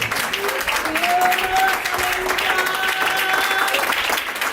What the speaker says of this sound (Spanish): Den un aplauso al Señor con todo.